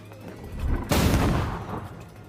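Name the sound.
gunshots in a film scene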